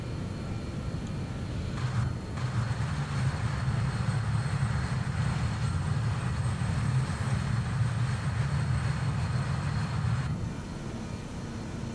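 A BAE 146 freighter's jet engines drone steadily during the climb after takeoff, a continuous low roar heard from inside with no talk.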